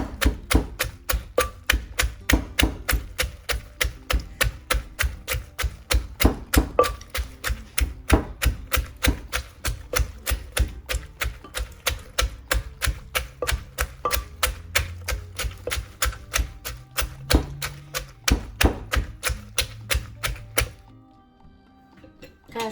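Carrot som tam salad pounded in a mortar with a pestle, a steady rapid series of sharp wooden thuds for about twenty seconds, loud and close, stopping near the end.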